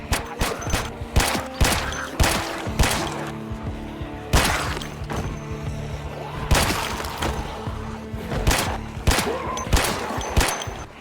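Guns fire in Project Zomboid, a zombie survival game: a run of sharp, loud shots in irregular bursts, some clustered rapidly, others spaced apart, with no talking.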